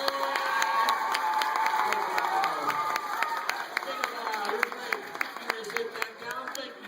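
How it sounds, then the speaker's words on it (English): At a children's storytelling event, a small crowd breaks into scattered, moderately loud clapping mixed with cheers and children's shouts. Individual claps stay distinct throughout, with voices running beneath them. "A big round of applause for Ethan and Ellen, everybody!"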